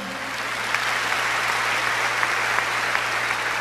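Church congregation applauding at a worship service in Surabaya, a steady broadband wash of clapping with a low hum underneath, holding evenly throughout with a few sharper claps standing out.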